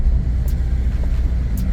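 A car's engine, on a vehicle with a failing transmission solenoid, runs with a steady low rumble and slight uneven pulses of a misfire throughout, alone without talk.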